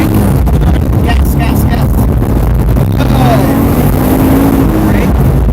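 A car engine pulls hard at full throttle on a practice track, a loud, steady, close roar that holds for several seconds with wind rush over the microphone.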